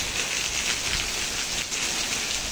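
Heavy rain pours down in the town centre of Ribeira do Pombal in the Sertão, a dense, continuous hiss of drops striking surfaces, steady and fairly close, with no voices.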